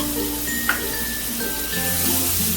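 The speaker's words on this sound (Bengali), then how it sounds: "রসুনটাকে একটু ভেজে নেব" Garlic frying in oil in a pan for a shrimp and taro-stem dish, a steady soft sizzle running throughout with one brief clink near the start and a low tonal hum underneath.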